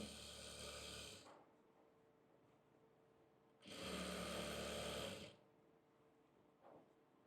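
A sewing machine runs in two bursts while stitching a Patiala salwar, with a steady mechanical whir lasting about a second, then a pause, then a longer run of about two seconds, close and fairly loud.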